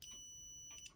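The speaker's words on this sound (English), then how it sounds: "what I'm using to test this is a multimeter, and I've got it set to a beep mode" Multimeter in continuity beep mode testing wiring on a model Titanic: a steady high electronic tone sounding for about a second, faint but clean and uninterrupted.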